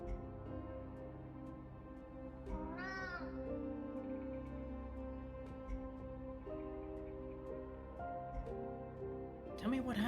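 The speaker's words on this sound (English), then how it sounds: "Might as well just let the cat make its own noises." A cat in a video game meows twice, a rising, wavering cry early on and a shorter one near the end, over a constant hum of game music and background tones.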